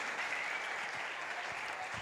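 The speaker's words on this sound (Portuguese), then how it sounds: "Uma salva de palmas, queridas" A church congregation applauds graduates during a service, a steady, fairly soft wash of many hands clapping throughout.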